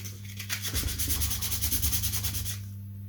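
A part for a model aircraft build being sanded to key its surface before gluing, a steady rasping rub that runs for about two seconds, fairly close, over a low constant hum.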